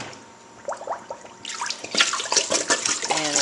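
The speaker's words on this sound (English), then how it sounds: "rinse the bottle out really good." Very hot tap water runs into a glass bottle being rinsed out, starting with a few hollow clinks and trickles, then a louder steady splashing gush that fills and sloshes inside the bottle, close and alone.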